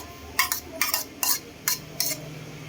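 Shredded cabbage and carrots with sugar, salt and pepper are tossed for coleslaw, producing five evenly spaced scraping stirs of a utensil against a bowl, close and clear.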